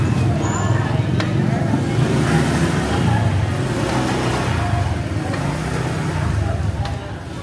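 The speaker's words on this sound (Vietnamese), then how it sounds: "Kẹt xe." Dense traffic jam at a busy Vietnamese market in Trà Ôn, Vĩnh Long during the Tết Thanh Minh holiday rush, with a steady roar of cars, buses and motorbikes idling and revving close by under a crowd's babble.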